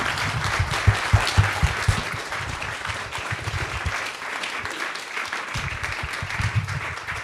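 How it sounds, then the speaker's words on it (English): Loud, dense applause from an audience after a panel discussion fills the whole stretch as a steady, unbroken wash of many hands clapping, with faint voices mixed in. "Hold your applause just for a second."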